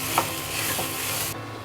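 Chicken dry roast masala scraped and stirred around a hot pan, a steady soft sizzle under a few scuffing spoon strokes, close and moderately quiet, ending abruptly.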